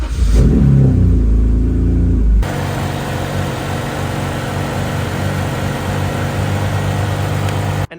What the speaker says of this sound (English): we fired up the car